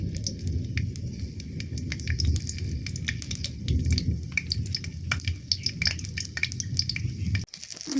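Dried chillies sizzling in hot oil in a pan alongside bay leaves while khichuri is being cooked, a steady close crackling fry with scattered pops and a brief clatter near the end.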